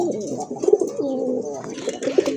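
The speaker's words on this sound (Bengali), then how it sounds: "আরেক জোড়া কবুতর, যদিও দুই প্রজাতির কবুতর" Pigeons of two breeds, sold as a pair, coo in repeated low throaty phrases close by, steady and unhurried with no talking over them.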